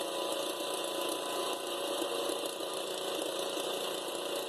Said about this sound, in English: I'm running it in 4th gear. High gear with that garden tractor. Pretty much full throttle.